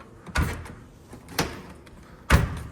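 A Blomberg dryer door, just refitted with a new gasket, is pushed shut three times, each a sharp thud or slam separated by roughly a second of quiet.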